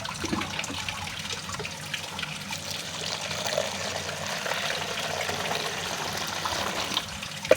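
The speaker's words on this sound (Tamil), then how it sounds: "தண்ணி விட்டு மிக்ஸ் பண்ணிக்கணும்" Water pours and trickles steadily into a container to mix a powder, a continuous splashing flow with a small knock at the very end.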